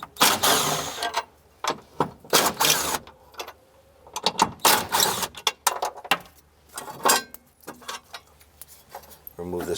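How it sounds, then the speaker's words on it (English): A 12mm socket on a ratchet loosens and removes bolts from a bracket on a 2006-2012 Honda Civic, giving repeated close metallic clicks, rattles and clinks in irregular bursts with no talking. "Now we're going to use a 12mm socket and remove these bolts here."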